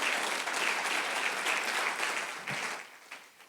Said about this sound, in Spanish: Dale un fuerte aplauso al Señor Jesús.